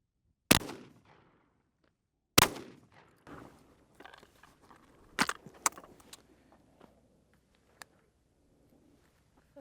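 Two sharp, loud blasts from a JW-2000 break-action coach gun ring out a couple of seconds apart, followed by metallic clinks and handling noises as the shotgun is opened and reloaded.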